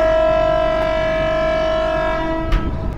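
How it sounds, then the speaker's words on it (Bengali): The Sealdah Rajdhani Express (12314) sounds a loud, sustained horn close by, a steady tonal blast of about two and a half seconds that ends abruptly, with rail rumble underneath. "ট্রেনও হুইসেল দিয়ে জানিয়ে দিল ইয়েস"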